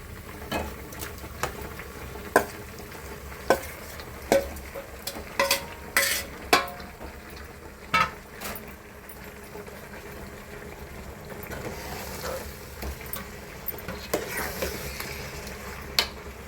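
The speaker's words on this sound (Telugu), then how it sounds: "వేసి ఇలా మొత్తం తిప్పేసి సిమ్లో మీడియం ఫ్లేమ్లో పెట్టి ఒక్క 10 నిమిషాల వరకు కూడా ముక్క ఇలా ఆయిల్లో వేగాలండి" Marinated chicken pieces frying in oil over a medium flame, a low continuous sizzle punctuated by repeated sharp clanks and scrapes of a spoon stirring against the pan, close and moderately quiet with no voices.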